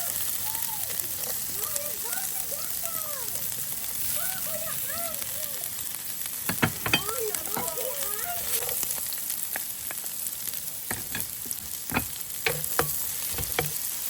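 Chopped onion and garlic fry in butter while cooking outdoors, a soft steady sizzle with scattered clicks and scrapes of stirring, with birds chirping in the background and a voice speaking at times.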